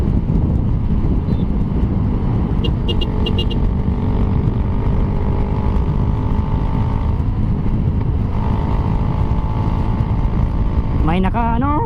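A Yamaha T-Max scooter rides along a road in a steady, continuous engine and wind drone, with other vehicles nearby and people talking over it.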